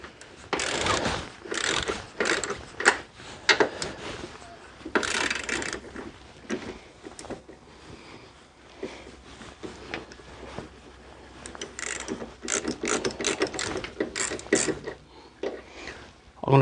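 A ratchet works 13mm bolts on a Ford Mondeo Mk3 ST220 during passenger drive shaft removal, with rapid bursts of close metallic clicking and rasping separated by short pauses and handling noise.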